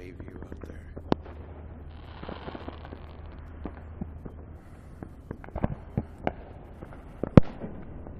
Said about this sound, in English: There are a few people lighting off fireworks up there.